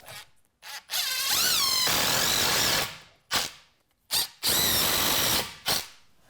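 Power drill driving screws into a 2x4 garage workbench frame, several bursts of high whirring that rise in pitch, separated by short pauses and brief clicks.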